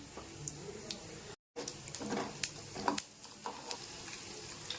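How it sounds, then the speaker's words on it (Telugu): Tempering spices (mustard seeds, cumin and chana dal) frying in hot oil for pulihora, a soft steady sizzle with scattered pops and crackles and a brief dropout midway. "ఇందులో తాలింపు దినుసులు, ఆవాలు, జీలకర్ర, పచ్చెనపప్పు 1 స్పూన్ చొప్పున తీసుకున్నాను. అవి వేసి వేయించుకోవాలి."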